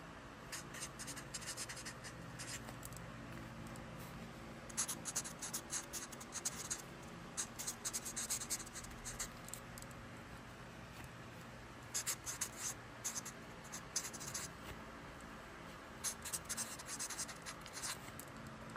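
A pen writes on paper in bursts of fine scratching strokes with short pauses between them, close and fairly quiet, without any talk.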